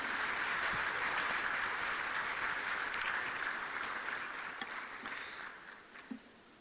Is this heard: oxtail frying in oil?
no